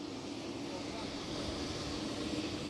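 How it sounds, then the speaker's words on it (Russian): A VT-Aero airliner on a test flight from Moscow lands at Sukhum airport in Abkhazia, with a steady, broad engine roar that holds evenly and fairly loud throughout. "В 13:35 самолет авиакомпании ВТ «Аэро» приземлился в аэропорту Сухума."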